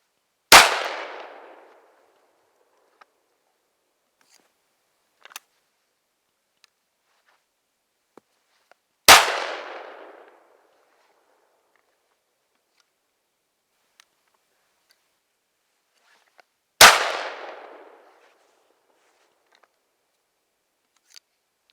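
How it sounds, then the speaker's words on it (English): A Dominion Arms Backpacker short-barrelled shotgun fires outdoors at thrown muddy clay targets, three sharp loud blasts spaced roughly eight seconds apart, each with a brief decaying echo, and faint clicks and handling sounds between shots. "You can actually feel the muzzle blast on your fingers from the short barrel."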